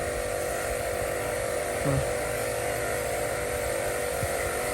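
A steady tractor engine drone runs throughout, a constant low rumble with a faint hum, close and unbroken, no talking.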